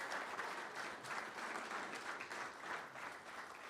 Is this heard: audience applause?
yes